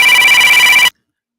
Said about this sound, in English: Just a minute, we got a phone call.